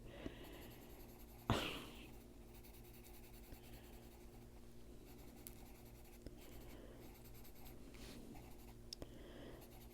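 A watercolor pencil drags across paper in close, faint scratchy strokes, with one louder knock near the start and light rubbing continuing underneath.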